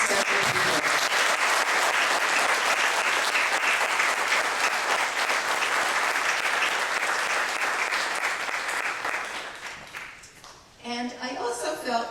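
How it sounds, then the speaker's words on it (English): A big round of applause from the crowd at a middle school ribbon cutting ceremony, loud and dense for about ten seconds, then dying away as a voice begins speaking. "So how about a big round of applause to thank all these special people."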